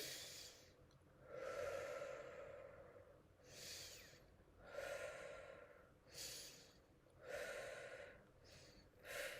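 Slow, deliberate deep breathing exercise for mindfulness, with four or five long audible inhales and exhales in a steady rhythm, close and fairly soft in a quiet room.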